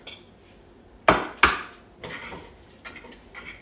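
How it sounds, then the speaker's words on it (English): Onions and cut mushrooms for a keto chili are dropped into a pot, giving two sharp clattering knocks close together followed by softer scraping, tapping and rustling as the pieces settle; no speech. "So now I'm putting the onions and the cut up mushroom in there."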